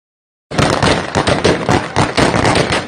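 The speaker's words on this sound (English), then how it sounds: "And of course, you can hear the gunshots" A rapid burst of loud gunfire outside an airport, many shots in quick succession forming a continuous rattling volley after a moment of silence.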